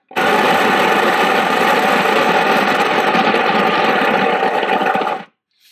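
An espresso coffee machine grinds beans in one loud, steady burst of about five seconds, a close buzzing mechanical whir that cuts off abruptly to silence.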